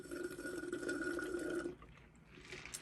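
A voice imitating the slurp of the last bit of soda sucked through a straw: a raspy, bubbly gurgle lasting under two seconds, then quieter hiss and a sharp click at the end.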